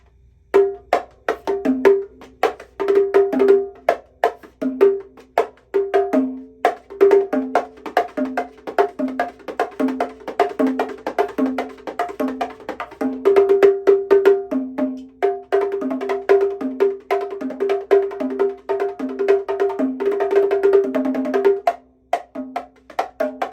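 LP compact conga and bongo drums struck in a lively, steady rhythm with sharp slaps and ringing tones, played close and alone.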